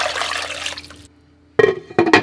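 A liter of water is poured into a pot for rendering tallow, a bright splashing stream that stops, then after a pause a couple of short clinks and splashes follow.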